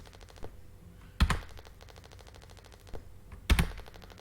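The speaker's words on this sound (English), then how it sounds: "I'm going up the F keys now." Individual function keys pressed on a computer keyboard, a handful of separate clicky taps with a couple of heavier thunks, close and fairly quiet.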